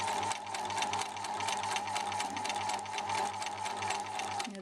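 A sewing machine runs continuously, stitching forwards on a long stitch setting while sewing a lapped zip, with a steady, loud, even whirring hum and rapid needle pulses throughout.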